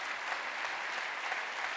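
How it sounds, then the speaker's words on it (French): Steady applause from a crowd at a French motorsport awards ceremony, dense clapping throughout with no pauses, moderately loud and even. "on peut l'applaudir"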